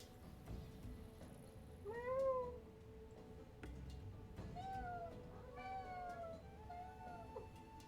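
A person imitates kitten meows, a string of high, thin mewing calls rising and falling, several in a row, close and fairly loud over a low steady background hum.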